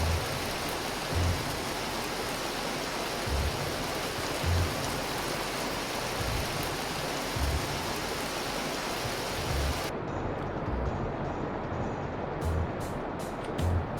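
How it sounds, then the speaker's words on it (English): Hail falls in the Vintage Story video game as a dense, continuous patter and hiss that stays steady throughout, with no voices. "It's hailing."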